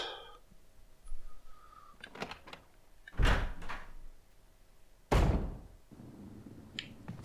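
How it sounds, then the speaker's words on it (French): Door being unlocked and opened in the 2002 Resident Evil remake, heard as a small click and rattle followed by two heavy, loud thuds a couple of seconds apart, close and free of talk. "Voilà, déverrouiller la porte."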